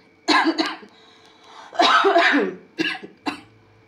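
A person coughs several times close up, a few sharp bursts with a longer rough cough in the middle, separated by brief quiet.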